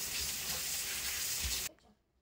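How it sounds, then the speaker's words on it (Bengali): Pabda fish curry (pabda macher jhal) simmers in a pan with a dense, close bubbling sizzle that holds steady for under two seconds, then cuts off abruptly into near silence. "এবারে আরও কিছুক্ষণ ফুটিয়ে নেব।"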